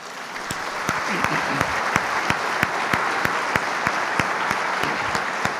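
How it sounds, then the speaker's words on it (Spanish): Church congregation applauding during a sermon, rhythmic, fairly loud clapping with sharp regular beats over a broad crowd wash, with faint voices mixed in. "Entonces dale un aplauso a Dios"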